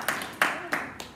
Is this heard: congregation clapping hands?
yes